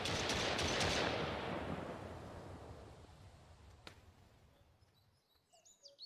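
Gunshots in Mist Survival, with a loud burst of shots at the start that rings off into a long fading tail, then one faint distant crack. Birds call quietly toward the end.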